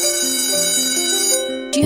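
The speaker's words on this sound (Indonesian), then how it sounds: "Sampai bel pulang sekolah pun berbunyi." An electric school bell rings at the end of the school day, a steady loud metallic ringing that holds for well over a second before cutting off with a clang.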